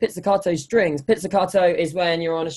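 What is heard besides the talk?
No everyday noise stands out behind the speech.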